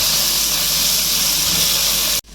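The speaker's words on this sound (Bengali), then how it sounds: "জিরে গুঁড়ো কাঁচা লঙ্কা কুচি টমেটো কুচি দিয়ে আমি একটু কষিয়ে নেব" Cumin, chopped green chili and tomato sauté in hot oil for a pointed gourd dorma curry, giving a loud, steady sizzling hiss close by that cuts off abruptly near the end.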